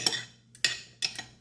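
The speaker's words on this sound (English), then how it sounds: "Whisk it real good." Quick metallic clinks of a whisk against a bowl, several sharp taps in an uneven rhythm, close and fairly quiet.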